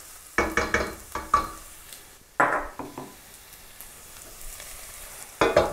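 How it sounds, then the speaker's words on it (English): Chopped garlic and ginger fry quietly in a pan for a chicken curry, broken by sharp, close utensil knocks and stirring scrapes that come in quick clusters with short pauses between them, with no talking. "Stir this up a little bit. It won't take long for the garlic to cook."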